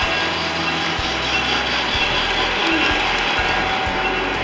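A Polar Express model train runs at TrainLand in Lynbrook, Long Island. It makes a steady mechanical hum with regular clicks as it rolls along the track.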